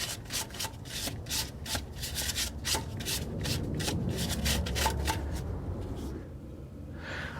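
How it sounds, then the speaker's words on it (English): Rapid, rhythmic scrubbing and scraping as crud is cleaned out of the lower spring cup on a GM car's rear suspension (Chevy Cobalt, HHR, Pontiac G5), close and steady before tapering off into quiet. "It's a good time to get all the crud out of this lower cup that the spring sits in."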